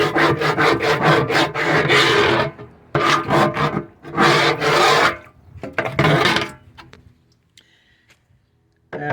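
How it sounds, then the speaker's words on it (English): A barbecue scraper scrapes hard across a cast iron BBQ griddle in several loud, rasping bursts with brief pauses between them, then fades to quiet with a few faint ticks near the end. "I'm scraping it with the barbecue scraper."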